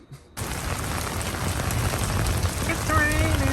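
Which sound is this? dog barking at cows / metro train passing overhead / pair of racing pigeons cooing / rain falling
rain falling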